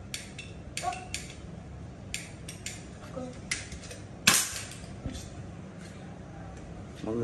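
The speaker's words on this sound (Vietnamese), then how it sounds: "Đấy, bắn hai phát rồi mà vẫn chưa trúng phát nào" A toy gun fires at a tabletop target, giving sharp isolated snapping clicks spaced irregularly over a quiet room background, with one louder crack standing out midway.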